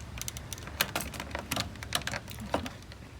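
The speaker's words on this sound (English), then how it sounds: "I think it's kind of better to just snatch it up with the scissors." Scissors snip through a plastic egg carton in a series of sharp, close crisp cuts and crackles, irregularly spaced, with no talking.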